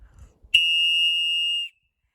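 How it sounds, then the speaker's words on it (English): A single strong blast on an emergency whistle sounds loud and close as one sustained, piercing tone of about a second, following a brief low rumble. "So here we have a whistle. So whenever you need to whistle, make sure you don't give it a weak blast like this, but a nice strong blast like this."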